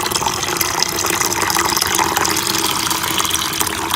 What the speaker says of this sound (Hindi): ये मैं इसमें पानी ऐड कर रहा हूँ